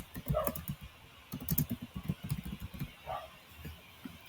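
Quick bursts of keystrokes clatter on a computer keyboard as text is typed, close and fairly crisp, with brief gaps between clusters of taps.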